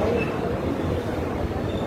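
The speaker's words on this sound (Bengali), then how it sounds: "ডিব্রুগড় থেকে আসছে হাওড়াগামী কামরূপ এক্সপ্রেস" Kamrup Express, bound for Howrah from Dibrugarh, standing at Malda Town station: a steady low rumble of idling train and platform noise, continuous and fairly loud throughout.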